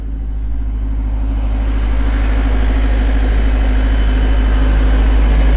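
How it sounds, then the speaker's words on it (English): An off-grid generator engine runs steadily in a container, a loud, low constant drone with a deep hum that holds level throughout, with no talking. "So I'll show you the generator."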